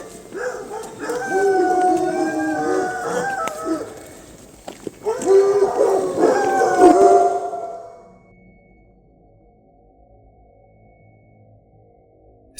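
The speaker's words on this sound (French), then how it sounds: "chiens de chasse." Hunting dogs howl in long, wavering drawn-out cries, a loud chorus of two bursts separated by a brief dip, then fading into near silence.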